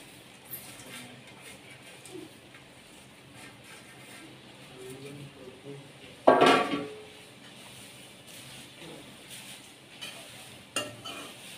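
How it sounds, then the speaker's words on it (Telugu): Flattened rice is tossed in a pan with curry leaves and turmeric: soft sizzling and stirring scrapes, with a sharper clatter midway and a voice speaking briefly. "ఇప్పుడు ఇవి అటుకులు వేస్తున్నాను."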